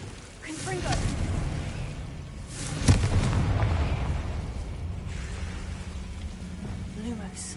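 In the Hogwarts Legacy video game, a Confringo spell goes off as a sharp fiery blast, with a brief crackling burst over a continuous low rumble and game ambience.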